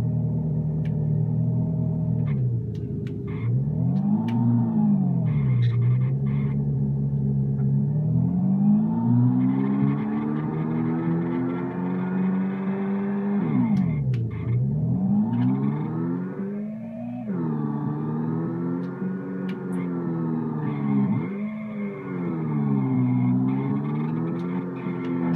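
A car in a Unity game engine drives and revs for a long stretch, its synthetic engine tone rising and falling repeatedly in sweeping pitch bends with occasional sharp impact clicks, loud and continuous.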